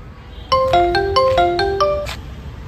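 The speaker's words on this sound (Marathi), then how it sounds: "तुला फोन वाजतोय" A mobile phone ringtone plays in a Marathi short film scene, a quick run of bright melodic electronic notes rising and falling for about a second and a half, loud and close over a quiet room.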